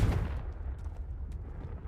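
A Confringo blasting spell cast in the video game Hogwarts Legacy: a loud burst at the onset, then a low rumbling blast that carries on, with a few faint sparkling ticks above it.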